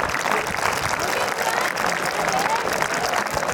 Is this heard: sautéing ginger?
no